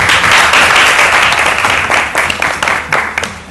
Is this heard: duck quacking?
no